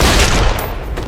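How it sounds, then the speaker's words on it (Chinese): A loud, dense burst of gunfire in a gangster film scene, rapid overlapping shots packed into about a second, close and harsh with no talking. "确认过后，他们立马开枪射杀了他"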